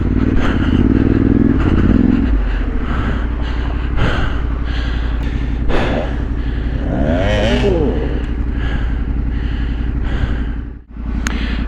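A struggling motorcycle engine labors up a rocky trail section in Wales, a loud, steady low drone with uneven revving and clattering bumps from the terrain, close to the microphone and continuous throughout.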